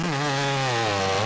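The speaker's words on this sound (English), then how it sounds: "the athletes' chainsaws are carefully checked once again to make sure that the self-built machines comply with safety regulations" A modified, custom-built hot saw chainsaw for timber sports runs at high revs, a loud, close, continuous engine whine with a steady buzzing drone.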